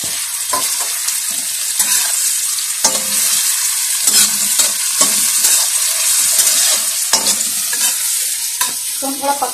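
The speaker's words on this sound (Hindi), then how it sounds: "तो हम थोड़ा पका लेंगे क्योंकि शिमला मिर्च थोड़ा सा क्रंच में होना चाहिए" Finely chopped capsicum fries in oil with potatoes and beans, a busy sizzle broken by repeated scraping strokes of a spatula stirring the pan.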